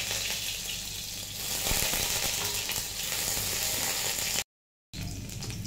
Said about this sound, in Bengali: ফার্স্টেই কড়াইয়ে তেল গরম করার পর আমি রসুনগুলো দিয়ে দিব, কারণ ফ্লেভারটা তখন ভালো আসবে।